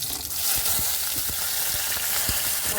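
Green chilies and onion hit hot oil in a pan together, giving a loud, steady sizzle with soft scraping stirs at intervals and no talking.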